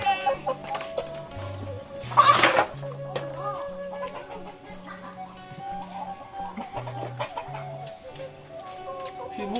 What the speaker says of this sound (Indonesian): Ini ayam nu gak digoreng, ini ayam nu hirup.